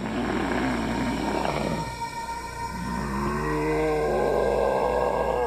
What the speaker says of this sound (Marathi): तो आताही धीरजकडे रागात पाहत होता आणि गुरगुरत होता.